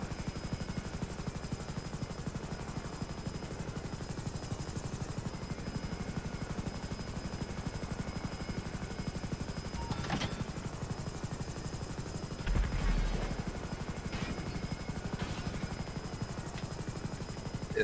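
A helicopter in Grand Theft Auto Online drones with a dense, constant rotor chop that never lets up, loud and close, with a few sharp bursts like gunfire or impacts breaking through near the end.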